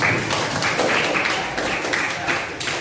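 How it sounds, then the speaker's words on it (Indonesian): Brief burst of classroom applause from ninth-grade junior high students, a loud, dense patter of hands lasting a few seconds. "beri tepuk tangan untuk kita semua"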